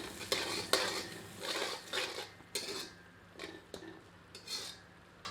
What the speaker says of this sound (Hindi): एक बार अच्छी तरह कड़छी चलाते हैं।